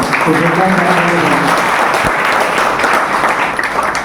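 Applause from an audience at a college physics society inauguration ceremony in a hall, a dense, loud, continuous burst of clapping that holds steady for several seconds.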